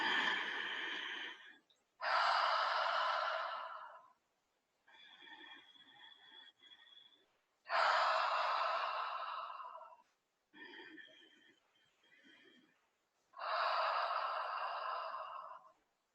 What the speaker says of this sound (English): we'll do this together for 3 deep breaths